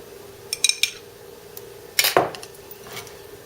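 A spoon clinks against a bowl while mixing homemade blackberry and raspberry sauce, with a few quick scrapes and taps early on, then a louder burst of clatter midway and softer stirring after.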